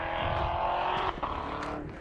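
A car drives past on a mountain road near Lone Peak, its engine and tire noise loud and close, swelling and dipping briefly around the middle of the pass.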